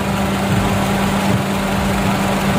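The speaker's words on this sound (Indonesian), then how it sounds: "ini mesin 2000 cc" A 2007 Honda CR-V's 2.0-litre R20A i-VTEC SOHC engine runs at idle, heard up close as a steady, even hum with a constant low drone and no voices.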